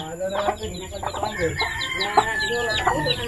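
Several chickens cluck and squawk close by inside a coop, a busy, continuous chorus of overlapping calls with occasional louder peaks and no talking.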